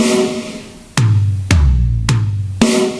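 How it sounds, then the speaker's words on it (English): An acoustic drum kit playing a fill, with sharp snare cracks alternating with low bass drum thumps in an uneven rhythm of four or five close, loud hits. "and then between those notes you play the snare"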